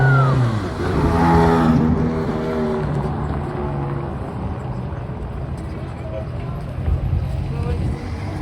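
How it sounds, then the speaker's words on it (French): A Ferrari 360 Challenge Stradale passing on a Paris street, its engine note loud in the first couple of seconds before fading into the distance, with people talking over it. "la Challenge Stradale. Qu'est-ce que ça sonne fort!"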